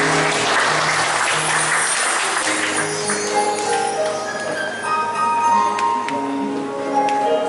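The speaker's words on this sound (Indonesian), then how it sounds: "Kita beri tepuk tangan." Applause from a church congregation for a newly married couple, clapping steady under tonal musical notes and bell-like tones that sound throughout.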